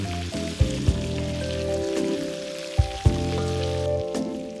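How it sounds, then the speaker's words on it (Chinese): Cauliflower and cured pork stir-frying in a wok over medium-low heat, a steady close sizzle with several dull thumps of the spatula tossing the food, over a soft tonal background. "下花菜，持续用中小火翻炒至半熟。"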